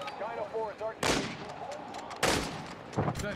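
Gunfire in Modern Warfare II, with three sharp, loud bursts of shots spaced about a second apart, mixed with faint voices and background game noise.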